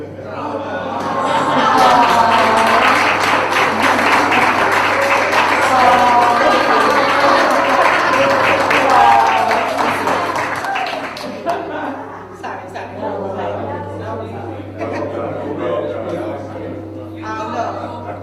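A crowd gives sustained, loud applause with cheering for a performer, a dense wash of clapping lasting about ten seconds before it dies away into talking.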